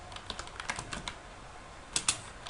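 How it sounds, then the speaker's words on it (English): Fingers typing on a computer keyboard, close and fairly quiet: a loose run of key clicks, then a short pause and a few sharper strokes near the end. "type in Google and type in minimal"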